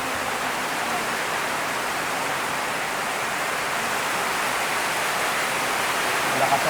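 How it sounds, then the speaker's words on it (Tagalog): Heavy rain falls steadily, a dense, even hiss that holds for the whole stretch without letting up, close and enveloping, with a soft murmur of voices underneath at times. "Lakas ng ulan."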